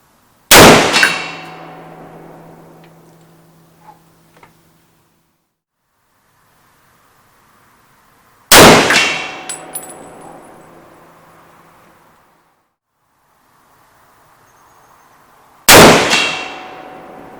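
Three loud, sharp M1 Garand rifle shots ring out at wide intervals outdoors, each followed by a long decaying echo, with a faint metallic ping from a steel target at 100 metres.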